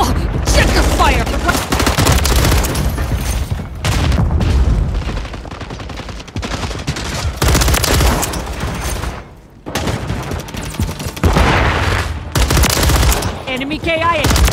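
Heavy automatic gunfire in Modern Warfare 3, loud and close, with sustained bursts and brief lulls while game voices shout over the shooting.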